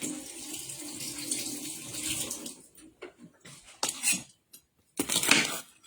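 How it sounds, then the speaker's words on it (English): Tap water runs steadily into a sink while a pepper is rinsed underneath, followed by a few short bursts of splashing and clinking as the flow is stopped and restarted. "Rinse off my pepper."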